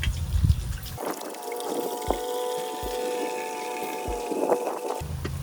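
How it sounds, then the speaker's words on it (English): Water trickles and splashes steadily with a hollow, metallic ring, punctuated by a few sharp knocks and drips, as water drains out the side of an engine oil pan on a BMW E36 with an M5X turbo engine. "So we got water coming out right here on the side"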